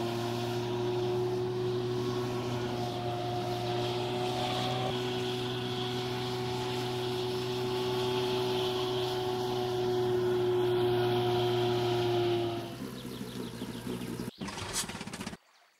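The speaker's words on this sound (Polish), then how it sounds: "To mały silniczek, także widzicie, prawie nie hałasuje." A small outboard motor pushes an inflatable dinghy during a fishing game set in France, giving a steady, fairly quiet engine drone with a constant pitch. It cuts off abruptly near the end.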